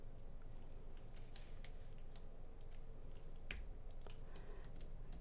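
Typing on a computer keyboard, quiet scattered key clicks in an irregular rhythm over faint background hiss.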